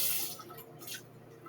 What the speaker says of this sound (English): I'll use a little clean water just to swirl it and give it a quick rinse.